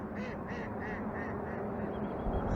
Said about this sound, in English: These ducks.